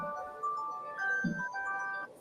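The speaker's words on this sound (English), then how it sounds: "That's my alarm on my clock to tell me when to take my medicine." A bedside clock alarm chimes a steady melodic reminder tone for medicine time, sustained across the clip at moderate level with a brief low clunk midway, no talk over it.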